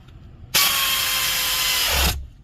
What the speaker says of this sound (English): Then I'm going to hit it with the air tool to make sure that it is going in and it is screwing in